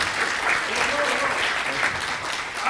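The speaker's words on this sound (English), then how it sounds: "please give a round of applause to our panelists today" Audience at a forum on Detroit applauding panelists, a dense, sustained round of clapping with voices faintly audible beneath it.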